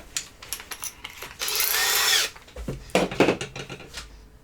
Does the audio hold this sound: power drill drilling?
yes